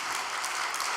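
Audience applause at a Korean church gathering, a dense wash of clapping from many hands that holds steady and fairly loud through a brief moment, with no talk over it.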